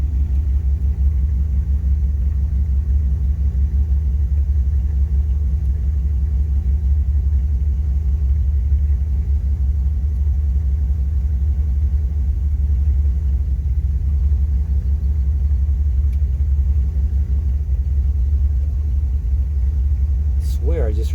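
Engine of a 1973 Dodge truck running, a steady low rumble that holds evenly throughout, close to the microphone.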